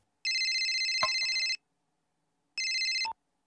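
A telephone rings in two electronic bursts, one long ring and then a shorter one after a pause, loud and close, with no talking.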